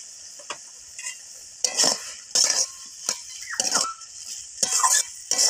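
Gima greens are stirred in a pan with a pinch of cumin powder, short bursts of scraping and soft sizzle coming in uneven strokes with quiet pauses between, a spatula clinking against the metal now and then.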